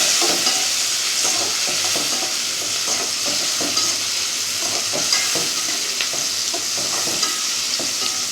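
Tomato, onion and green chilli sauté in a clay pot, with a loud continuous sizzle and repeated scraping strokes of stirring throughout.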